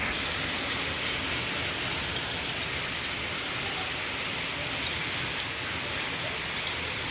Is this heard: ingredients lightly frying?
no